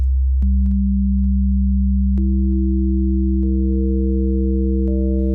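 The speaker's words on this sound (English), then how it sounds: "Making a square wave. Now, it doesn't really sound so nice when we do this" Synthesizer bass tone built from a low fundamental, with higher harmonics stacked on in steps so it grows toward a buzzy square wave, steady and loud with no talk.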